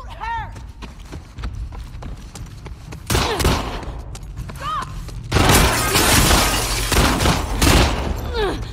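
Bursts of gunfire and shattering impacts from combat in The Last of Us Part 2, loud and layered in two dense stretches, with game voices and harmonic creature or character cries between shots.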